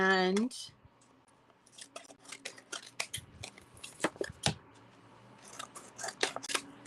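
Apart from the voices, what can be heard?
scissors trimming vinyl car decal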